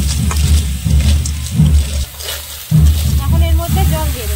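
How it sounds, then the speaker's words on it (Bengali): Water is poured into a pan of sizzling spiced lentil and snail masala, a Bengali gugli dal. A wet hiss and gurgle run steadily underneath a person talking nearby. "এখন এর মধ্যে একটু সামান্য জল দিয়ে সেদ্ধ করে নেব"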